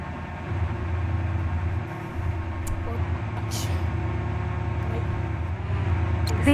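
A three-coach train in the video game Stepford County Railway running past Hemden Park, heard as a steady low engine drone and rolling rumble with a brief dip midway and no voices.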